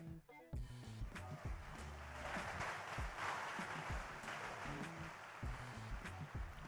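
A crowd at a 2024 Bitcoin conference applauds in a dense, sustained wash of clapping that fills the whole stretch, with a low tonal rumble beneath.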